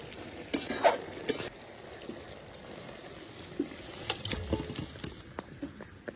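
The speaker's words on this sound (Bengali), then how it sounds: "এবার ভালো করে মিশিয়ে নেব।" Curry in a pan being mixed and stirred, with scraping spoon strokes and clinks in a few bursts near the start and again later, over a low soft sizzle; no talking.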